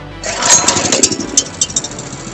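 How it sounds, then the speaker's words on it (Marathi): A 4G model power weeder engine running close by, a loud, rapid, steady firing rattle with sharp metallic ticks throughout the short burst. "बघू शकता की आपलं फोर जी मॉडेल आहे किती स्मूथ फायरिंग आहे"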